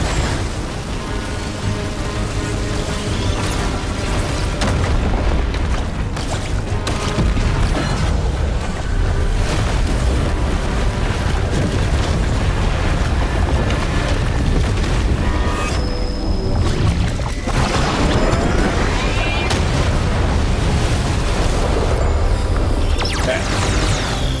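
Loud, dense rumbling booms and explosions from bombs in the video game Genshin Impact, a continuous roaring wall of blasts with no gaps, heavy low-end throughout.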